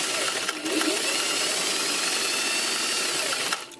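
A sewing machine stitches a narrow hem on a layered circle skirt with a steady, close, buzzing whir that runs almost unbroken, dipping slightly near the start and the end.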